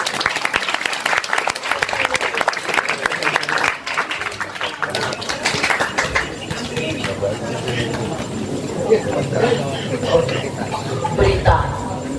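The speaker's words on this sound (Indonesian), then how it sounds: "tepuk tangan dulu." Audience clapping at an Islamic boarding-school study gathering, a dense burst of applause from a crowd that gradually thins into murmuring and chatter, with a voice and background noise continuing underneath.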